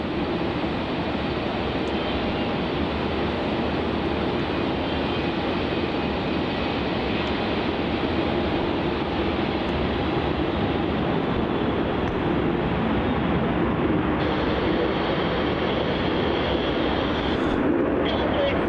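A Qantas airliner, flight QF380 from Sydney, arriving at Melbourne Airport, its engines giving a broad, steady roar that fills the whole stretch with constant loudness and a slight shift in tone toward the end.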